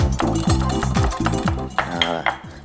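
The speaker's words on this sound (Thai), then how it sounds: "เดี๋ยวผมตำกระเทียมหน่อย" Garlic is pounded in a mortar in a kitchen, making a fast, steady series of sharp clacking thuds close by with a ringing, hollow tone.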